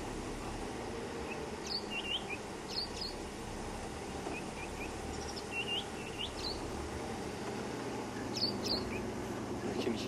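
A wild bird in the Sabi Sand bush at sunrise gives a short, repeated high call several times, faint and distant over a low, steady background rumble.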